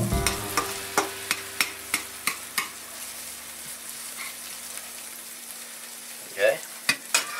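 Vegetables frying and browning in a pan for veggie spaghetti, a soft continuous sizzle broken by a run of sharp, regular stirring clicks and taps, close by, with no talking.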